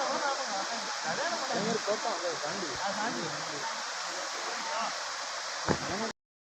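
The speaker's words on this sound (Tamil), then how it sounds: "இங்கே பார்த்தீங்கன்னா ஒரு அருமையான அருவி ஓடிட்டுருக்கு" A mountain waterfall pours with a steady, loud broadband rush of water that stays constant throughout, while voices talk under it before it cuts off abruptly.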